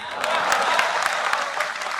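Audience applause at a poetry seminar on communal harmony in Delhi, a steady wash of clapping from a crowd that carries through the whole moment without pause.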